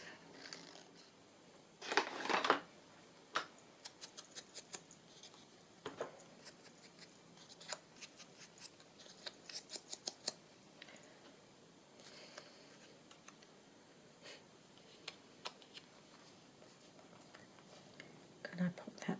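Scissors snipping paper around an inner frame for a journal, quiet close crisp snips in scattered bursts and rhythmic runs, with soft low talk in between.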